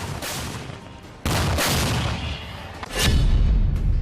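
Artillery shells exploding in Ukraine war footage, a run of loud overlapping blasts and rumbling booms, with a heavier low-end detonation near the end.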